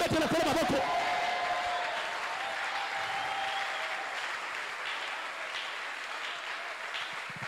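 Church congregation bursts into loud applause and cheering that starts at full strength, then thins gradually into a steadier, softer patter of clapping.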